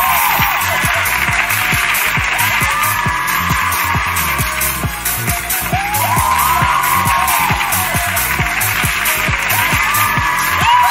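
A studio audience applauds and cheers for a girl group's stage performance on a singing competition show, with steady, loud clapping over a rhythmic backing track throughout.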